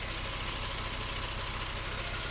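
A FAW 350HP truck engine idles steadily after an overheating fix, a loud, dense rumble with an even rhythmic pulse and no breaks.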